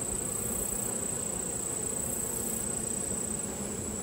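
Honey bees crowd a hive with brood-filled frames, making a dense, unbroken buzzing hum that stays steady and close the whole time.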